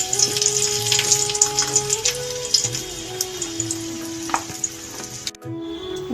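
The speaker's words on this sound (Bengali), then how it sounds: "প্রথমে দেব বেগুনটা ভেজে তুলে নেব।" Eggplant fries in hot mustard oil with a steady crackling sizzle close by, and a few sharper spatters and a brief stir near the end.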